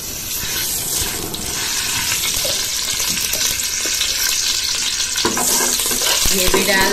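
Ghee heats in a cooking pot set on the stove, giving a steady, close sizzling hiss that runs evenly throughout and grows slightly louder toward the end.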